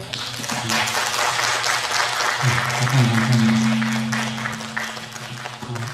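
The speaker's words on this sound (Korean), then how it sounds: "전문가 네 분에게 다시 한 번만 박수 부탁드리겠습니다" Audience applause at a residents' briefing on a public redevelopment project, a steady wash of clapping for the full length with a low sustained hum underneath.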